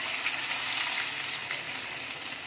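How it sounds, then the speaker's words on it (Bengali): Tomato purée sizzling steadily in melted butter in a pan for restaurant-style butter chicken, a continuous bright hiss with faint stirring crackles and no talk. "এবার সেই টমেটোর পিউরিটা এখন আমরা বাটারের মধ্যে দিয়ে দেবো।"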